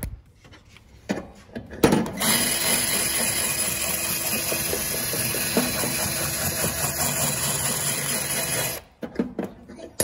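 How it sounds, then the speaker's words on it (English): A power hone grinds inside the end of a rusty 9-inch axle housing, a steady loud whir running for several seconds with brief quieter handling before and after. "I'll just hone this out here in the middle."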